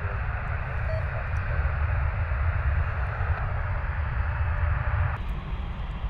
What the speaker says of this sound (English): landing on the left side is Shamrock 98 Kilo. It's our Aer Lingus Airbus A321neo out of Dublin.